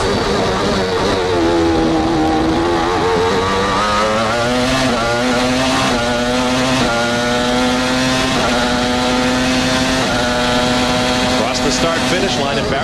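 Onboard a 1995 Jordan Peugeot V10 Formula 1 car racing in Canada: a loud, continuous screaming engine climbing in pitch through successive upshifts, with a race commentator talking over it.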